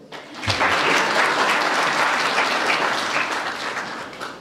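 An audience at a Nepali stage comedy show breaks into loud, sustained applause, with many hands clapping steadily for several seconds.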